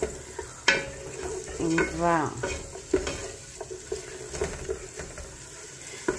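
Chopped onions fry and sizzle in a pan as they are stirred, giving a close, continuous hiss with scraping stirs, while a person speaks briefly in French.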